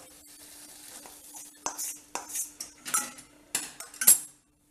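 Metal utensils clink and scrape in a pot while dissolved jaggery syrup is strained, with a series of sharp, close knocks that grow more frequent toward the end over a low steady hum.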